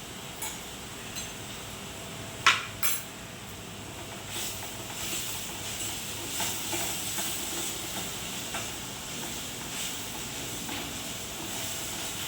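Onions sautéing in a pan for palak paneer, a steady soft sizzle with occasional stirring scrapes and clinks, close and fairly quiet.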